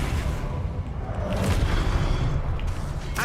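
An Incendio fire spell bursts out in Hogwarts Legacy, a loud, dense whooshing roar with booming low rumble that fills the whole clip, followed by a couple of sharper crackling hits near the end.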